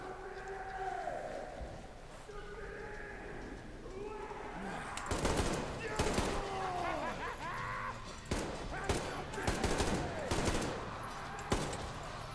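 Gunfire in the first-person shooter Metro Exodus, bursts of shots cracking out at irregular intervals over game ambience, with bird-like chirps and sweeping tones earlier and a sharper final volley.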